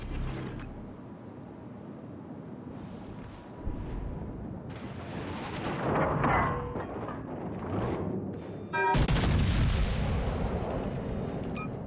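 Naval gun salvos in World of Warships Legends, booming shots against an engine and sea rumble, building to a heavy, loud salvo near the end that rolls on.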